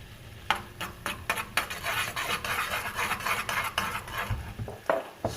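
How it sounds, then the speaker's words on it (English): A utensil scrapes and taps steadily around a pan while garlic paste is stirred into melting butter, a faint sizzle running underneath the rhythmic clinks. "Stir that around a little bit."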